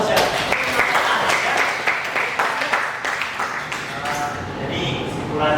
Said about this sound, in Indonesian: Ini harus kita kasih aplaus ya.